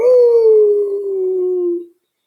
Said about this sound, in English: The wolf stood up tall and took a deep breath and leaped at the animals with a howl